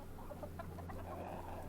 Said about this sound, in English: I can hear chickens. Those are chickens.